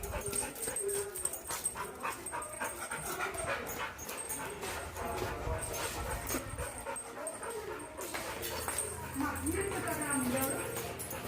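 Dogs pant, whimper and scuffle close by in a noisy, agitated burst, with people talking over the commotion.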